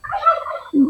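Homestead turkeys let out a short, loud burst of rattling gobbles close by, followed by a lower gobble right after.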